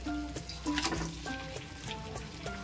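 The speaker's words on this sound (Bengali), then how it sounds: "এবারে আমি দিয়ে দেবো এতে ভেজে রাখা ঝিঙেগুলো" Fried ridge gourd pieces go into a pan of sizzling masala for a vegetarian gram-flour dish, giving a steady close sizzle with clattering and stirring sounds on top.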